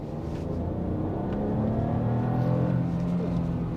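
A BMW 218i Gran Coupé with a 140 PS three-cylinder turbo accelerates hard, its engine note rising in a steady, sustained drone heard from inside the cabin, with no one speaking.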